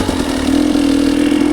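A 2022 GasGas 300cc fuel-injected dirt bike with electric start idles close and loud, its engine holding a steady, even putter throughout the short stretch.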